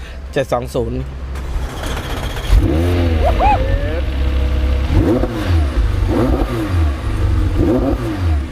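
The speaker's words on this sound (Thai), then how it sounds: "เดี๋ยวเราจะมาสตาร์ทรถให้ดูนะฮะ สำหรับเจ้าแมกลาเรน 720" A turbocharged McLaren 720S APEX cranks and fires up, then blips through several loud, close revs that rise and fall over a steady idle, with someone talking briefly at the start.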